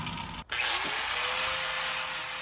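A high-RPM Metabo power tool running: a loud, close, steady high-pitched whir that briefly dips and cuts out, then spins back up and holds.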